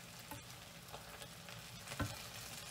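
Potatoes pan frying with a soft, continuous sizzle, quiet and close, with a few light scrapes and one firmer knock of a utensil against the pan as they are stirred.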